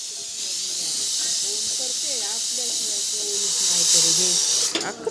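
A pressure cooker cooking dal lets out a long, loud, steady steam hiss that cuts off abruptly near the end, while a person talks underneath it.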